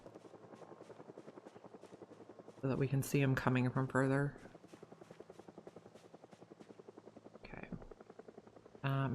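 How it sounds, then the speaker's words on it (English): Helicopter approaching in the zombie survival game Project Zomboid, a steady rhythmic rotor thrum running under a player's talk throughout, with a louder burst of game noise partway through. "I hear the helicopter."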